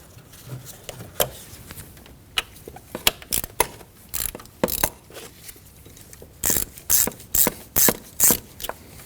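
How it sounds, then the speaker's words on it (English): Ratcheting clicks in short, irregular bursts as a tool loosens a hose clamp on a Ford Edge intake during a camshaft position sensor job, fairly close with quiet handling noise between bursts. "Moving inward on the intake, we can loosen up the second hose clamp."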